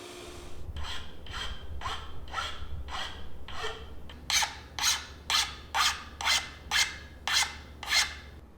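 A wooden katana saya is shaped against a belt grinder and slack belt, giving about fourteen rhythmic rasping strokes, softer at first, then louder and sharper, evenly spaced and close with no talking.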